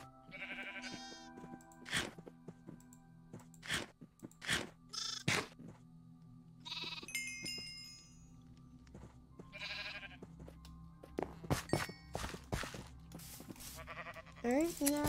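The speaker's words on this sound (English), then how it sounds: "Oh, the sheep. All start gathering." Sheep bleat repeatedly in a survival video game farm, several short calls scattered among game clicks, thunks and crunches, with a person talking over them.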